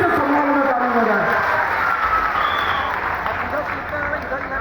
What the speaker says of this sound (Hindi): दोनों हाथ उठा करके एक बार पुलिस के सम्मान में ताली बजाएं।